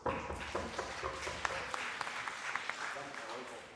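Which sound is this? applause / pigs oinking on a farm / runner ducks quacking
applause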